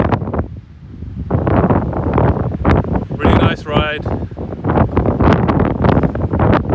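Strong wind buffets the microphone in a loud, constant rumble at Lal Lal Falls lookout while someone speaks briefly over it.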